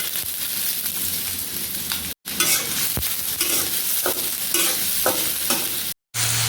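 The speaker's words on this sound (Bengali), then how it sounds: "তেল দিয়ে দিলাম, রসুন কুচি, দিলাম পেঁয়াজ কুচি" Chopped garlic and onion hit hot oil and sizzle loudly and steadily with stirring scrapes, cut by two brief silences.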